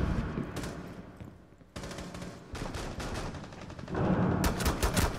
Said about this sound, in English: Keep firing, Clark.